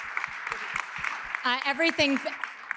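A conference audience applauds the organizers, a scattered, moderately loud run of claps across the whole stretch, with a voice talking over the second half.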